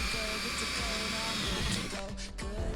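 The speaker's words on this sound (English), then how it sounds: "I'm gonna keep drilling for now" Power drill boring into a boat deck, a loud continuous motor whine close to the microphone that briefly dips near the end, with no clear talk over it.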